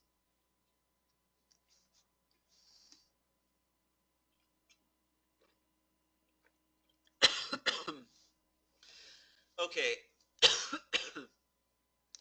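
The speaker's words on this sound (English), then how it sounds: "Can't stop coughing." A person in a webinar coughs repeatedly, several sharp hacking bursts in close succession near the microphone after a long quiet stretch, with a brief spoken word among them.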